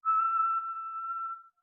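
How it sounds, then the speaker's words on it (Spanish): A person whistles a single sustained high note, clear and steady for about a second and a half before stopping, heard alone and close. "silbando una nota muy aguda"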